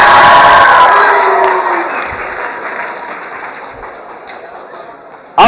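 A high school student body screams and cheers for the seniors at a pep rally, a loud dense crowd roar that slowly fades over several seconds before a sudden burst at the end.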